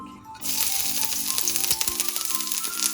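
Crushed garlic and ginger hit about a tablespoon of hot oil and burst into a loud, sudden sizzle that keeps crackling steadily, with light stirring clatter and no talk.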